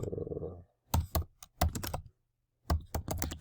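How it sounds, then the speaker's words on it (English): Quick bursts of keyboard typing, clusters of close clicking keystrokes separated by short silences. "I'm gonna just start typing away about privacy"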